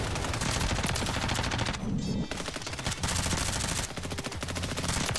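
Dense, continuous automatic gunfire from a video game featuring the JAK Intimidator and JAK Decimator weapons, loud and rapid with a brief lull midway before the bursts resume.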